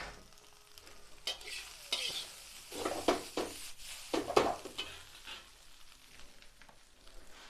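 Rice for egg fried rice being stir-fried in a wok. A steady sizzle runs under irregular scraping and stirring strokes, close and moderately loud, with no speech.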